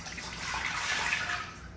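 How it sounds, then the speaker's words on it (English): Lemon water is poured into a cooking pot for apple pie filling, producing a close, steady splashing trickle that swells slightly and then eases over under two seconds, with no talking. "I'm gonna put that in the pot where I'm gonna put my cut up apples."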